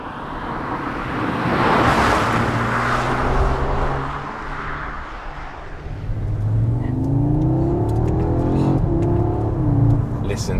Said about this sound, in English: Listen to that 5-cylinder